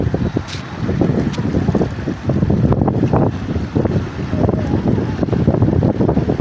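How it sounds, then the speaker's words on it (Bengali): Strong wind roars steadily and loudly during Cyclone Remal flooding in Kalapara, a continuous gusting rush with buffeting against the microphone and no voices. "প্রচন্ড বেগে বাতাস"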